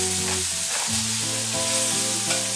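A tilapia fillet sizzles in a frying pan with a steady, loud hiss and crackle, while a tonal hum from the setting runs underneath.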